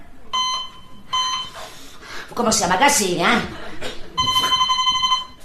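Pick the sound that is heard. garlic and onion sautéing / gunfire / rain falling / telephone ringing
telephone ringing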